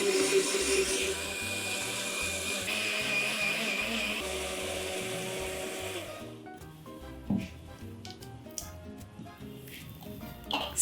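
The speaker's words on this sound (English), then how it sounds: "And now grind this to a fine paste." Half a freshly grated coconut with mustard seeds ground to a fine masala paste in a kitchen grinder, a loud steady whirring for about six seconds, then stopping into quieter clatter and scraping.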